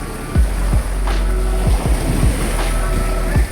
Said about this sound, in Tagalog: So, medyo malakas na alon.